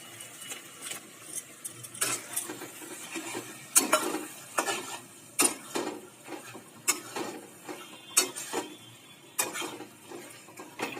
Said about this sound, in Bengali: এবার টমেটোর পেস্টটাও দিয়ে দিলাম।